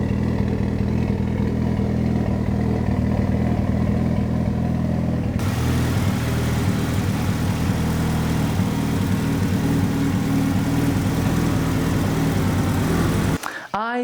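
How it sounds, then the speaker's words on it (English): An Evo car engine being checked for a fuel leak runs at a steady, loud idle close to the microphone; about midway the sound broadens and gets noisier, and a clattering handling noise cuts in at the end. "So I'm gonna start it up, let it get up to operating temperature."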